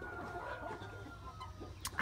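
A barred rock cross hen gives soft, steady clucking close by, a low continuous murmur of short throaty notes with a brief sharper sound near the end.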